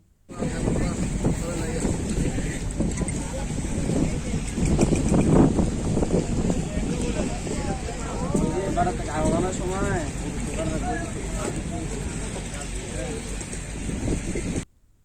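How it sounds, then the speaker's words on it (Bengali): At the Bishnandi ferry ghat on a river in Araihazar, Narayanganj, strong wind buffets the microphone with a constant loud rush, and any water sound is lost in it; voices talk briefly in the middle. "বাতাস আর পানির শব্দে বুঝতেই পারছেন বিকালটা আমার কেমন কেটেছে"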